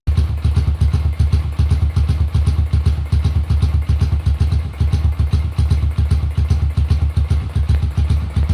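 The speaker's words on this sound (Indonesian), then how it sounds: "Akhirnya nyala, tinggal tes untuk mesin." A Yamaha Xabre engine fitted in a 2007 Yamaha Jupiter MX motorcycle idles steadily and loudly nearby, a continuous rapid chugging rumble with a clattery edge, no voices.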